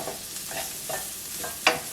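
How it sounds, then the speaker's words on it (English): Chopped garlic, two large cloves, sautéing briefly in a pan, giving a steady soft sizzle with faint stirring scrapes and one sharper clatter near the end, with no talking. "I have 2 large cloves of garlic that I've chopped, and we are just going to saute that for just 30 seconds or so."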